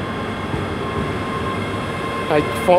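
Steady rumble of a ScotRail passenger train from Edinburgh Waverley arriving close by at Glasgow Queen Street station, with faint squeals and a brief voice near the end.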